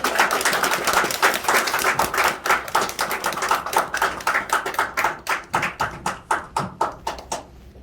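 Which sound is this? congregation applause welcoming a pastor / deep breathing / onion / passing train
congregation applause welcoming a pastor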